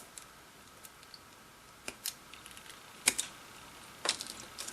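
Leftover plastic inner frame parts from a Gundam model kit are snipped off, giving a few sharp, faint clicks and snaps spaced irregularly over a quiet background.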